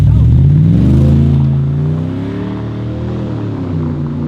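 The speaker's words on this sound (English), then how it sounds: "See how it stalls? The transmission before it changes gear, it stalls, right?" A Porsche Turbo S engine on a Stage 3 build revs loudly and steadily, its pitch sagging and wavering as it hesitates before a gear change, with a continuous close, rumbling drone throughout.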